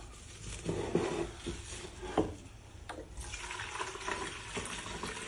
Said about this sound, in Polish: teraz doleję do nich wody, ale doleję dużo i będę pilnowała, żeby było dużo wody w wazonie.